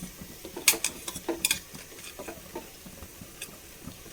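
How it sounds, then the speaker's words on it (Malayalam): Rice is tipped a little at a time into a pot for mushroom biryani, giving a few close, sharp clinks and soft grainy rattles with quiet stirring in between. No one speaks. "റൈസ് കുറേശ്ശെ ഇട്ട് കൊടുക്കാം."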